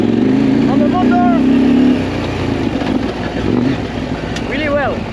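A KTM 890 Adventure R motorcycle engine runs under wind noise, with a brief rising and falling pitch as the throttle is opened, then steady rumble; a rider's voice is faint in places.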